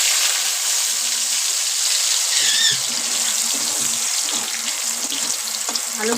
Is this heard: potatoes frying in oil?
yes